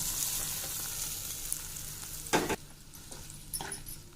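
Curry leaves, garlic cloves and a pinch of asafoetida fry in hot oil for a tomato pickle tempering, giving a steady close sizzle with a couple of sharper spits and crackles.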